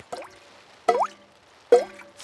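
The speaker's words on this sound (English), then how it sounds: "It is raining and the school roof is leaking again." Water drips from a leaking school roof in a cartoon, three separate, clear, close plops spaced evenly apart with near silence between them.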